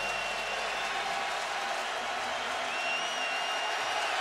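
A college football stadium crowd at UCLA versus Virginia in 2014 sends up a constant, dense roar of cheering that holds steady and loud throughout with no pauses.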